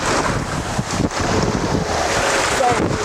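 Strong wind buffeting the microphone on an outdoor disc golf course in Lac du Flambeau, Wisconsin, a steady loud roaring rush with gusty swells, close and unbroken across the whole stretch.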